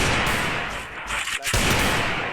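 Video game gunfire from someone aiming for headshots, a dense stretch of loud, continuous blasts with one brief dip midway and no clear gaps between shots.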